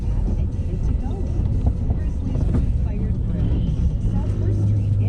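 Ford Taurus engine running with the gas pedal floored during hill climbing and puddle jumping, a loud, steady low roar with wind buffeting the microphone.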